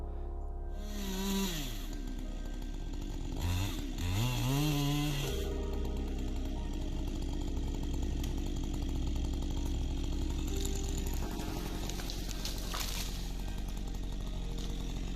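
A chainsaw runs during forestry and arboriculture tree work, its engine revving up and down in several bursts before settling into a sustained, loud, gritty drone.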